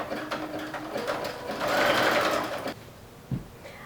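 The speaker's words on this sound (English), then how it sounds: "I like to do a pretty long zigzag stitch and then a narrow zigzag width." A sewing machine running a long, narrow zigzag stitch on a women's V-neck t-shirt, a steady close whirring hum that swells in the middle and then stops, followed by a brief soft clunk.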